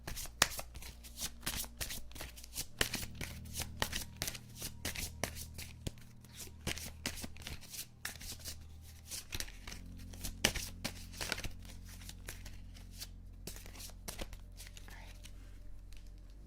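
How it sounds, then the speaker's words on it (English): Playing cards are shuffled over and over in a riffling, crackling rhythm that runs throughout, close and fairly loud, with a low hum beneath and a voice talking at times. "Let me reshuffle these ones."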